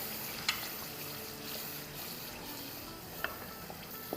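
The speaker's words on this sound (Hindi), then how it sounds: "इतना भूनना है कि बस ऑयल सरफेस पे आ जाए" Spices with ginger powder and salt are sautéed in oil for a paya curry, giving a soft, steady sizzle with occasional spoon taps and stirring clicks, fairly quiet and without speech.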